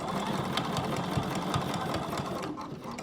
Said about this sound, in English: I'm going to stitch forward again.